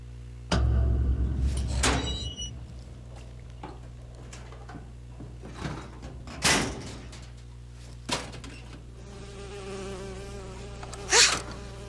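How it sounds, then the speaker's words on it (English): In Bioshock Infinite a bee buzzes close by, its drone rising and falling over a steady low game hum, with occasional whooshes and thuds breaking through. "Oh, it's a bee. I hate these things."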